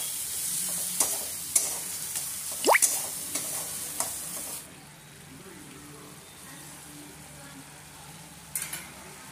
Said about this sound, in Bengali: এটা 2 মিনিটের মতো কষে নিতে হবে মশলাটা